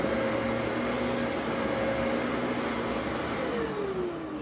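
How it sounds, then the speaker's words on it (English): A Dyson DC14 vacuum cleaner runs in carpet mode with a loud, continuous close motor roar and airflow hiss, a steady whine slowly shifting pitch near the end. "let's go ahead and do the 14 now. I want you to see something. If I put it down in carpet mode"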